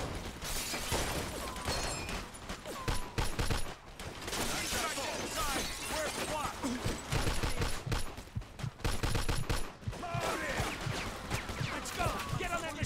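Machine gun fire rattles almost nonstop through a Mafia II shootout, dense bursts with brief gaps, mixed with shattering and crashing impacts while voices shout over the din.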